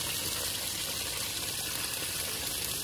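Dirty water draining out of a motorbike being washed in a river, heard as a constant broadband rush of flowing water with no pauses and no talk.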